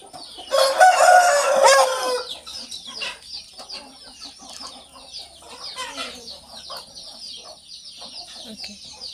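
An Aseel rooster on a Kerala poultry farm lets out a loud, close crow, then several softer clucks and chicken calls, with faint background noise.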